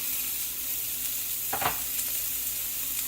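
Chopped onion frying in vegetable oil gives a soft, continuous sizzle with a short stirring scrape in the middle, quiet and close, with no voices.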